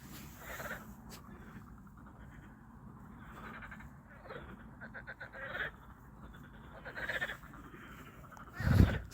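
Frogs croak at night by a lake in a scattered, faint chorus of rasping calls, with a louder close burst near the end and no talking.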